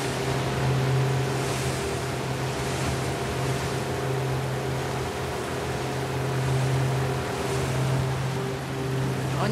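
A motorboat engine in The Last of Us Part II hums steadily on a wild river, with rushing water and wind noise around it; the drone runs continuously without a clear cutoff.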